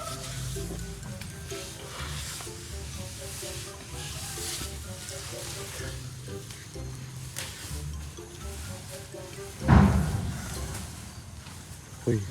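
Battered food fries in hot oil with a steady hiss and crackle, while people talk over it and a louder splashing crackle bursts out near the end.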